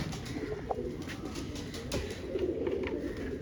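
Pet pigeons coo softly and repeatedly at close range during the rainy season, with a few wing flutters and small clicks between calls, no voices present.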